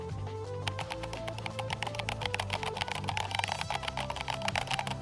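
Rapid, continuous typing on a computer keyboard fitted with replacement keycaps: dense, close clacks of individual keystrokes over a steady low hum, with no talking.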